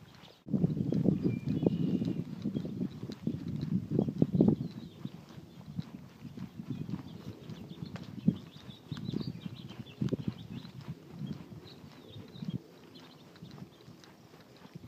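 A Tennessee Walking Horse walks over muddy ground, its hoofbeats soft, close and irregular. They are clearer in the first few seconds, then continue more faintly, with light outdoor background sound.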